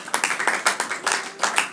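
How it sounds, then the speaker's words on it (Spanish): A church congregation at a Sunday service claps in a quick, uneven burst of many hands, fairly close and steady for under two seconds, with no talk over it. "Denle un fuerte aplauso a Dios."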